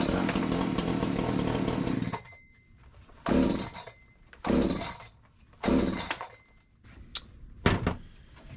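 An Echo CS-590 Timberwolf chainsaw idles roughly after a leaner low-speed carburetor adjustment, then gives four short, loud revving bursts separated by near-silent gaps, close up.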